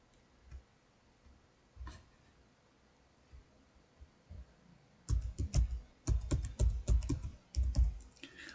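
Quiet, sparse key taps on a computer keyboard during a game stream, followed by a louder, rapid burst of close typing.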